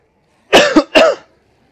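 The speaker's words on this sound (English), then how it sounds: "Pardon my coughing." Two sharp, close coughs in quick succession, loud and dry, with silence before and after.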